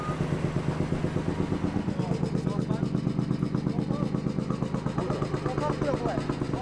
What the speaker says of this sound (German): Ah, man hört schon, klingt nicht ganz gesund. Also wir werden es mal anschauen müssen, ob da der Auspuff defekt ist.